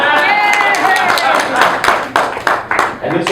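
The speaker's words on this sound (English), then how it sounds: "big applause for that" An audience at a product demonstration breaks into applause, a dense burst of many hands clapping that thins into scattered claps, with voices underneath.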